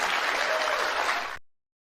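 Applause from a studio audience at a televised town hall, a steady dense wash of many hands clapping for over a second before cutting off abruptly.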